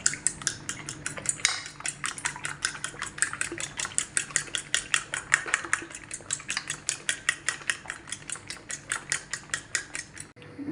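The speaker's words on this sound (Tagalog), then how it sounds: "Then, ibit lang po natin sila." A utensil beats eggs in a bowl for a banana and oat omelette, producing a fast, even run of close clicking taps that continues for several seconds.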